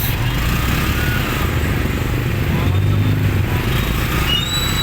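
A motorcycle rides through traffic in Lipa City, Batangas, its engine a steady close drone mixed with surrounding vehicle noise, while voices talk over it.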